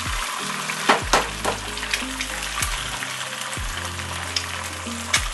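Eggs crackle and sizzle in a hot frying pan, a steady spatter punctuated by several sharp scrapes and clatters of a utensil against the pan, with no voices.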